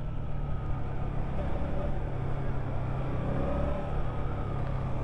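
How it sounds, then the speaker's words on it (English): A Suzuki GSX-8S motorcycle rides in first gear as the rider rolls on and off the throttle, giving a steady low engine drone with mild swells beneath constant road and wind rush. "What's it like in first gear? Coming on and off the throttle."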